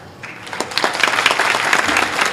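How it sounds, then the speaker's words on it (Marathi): An audience bursts into applause at a Marathi devotional discourse on Guru Purnima, a dense, steady patter of many hands clapping together close by, with no speech over it. "टाळ्या नका वाजू"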